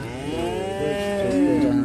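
Cattle low and moo at a busy livestock market in Indonesia, with several animals calling in long, overlapping drawn-out bellows that are fairly loud and close, while the market crowd murmurs beneath.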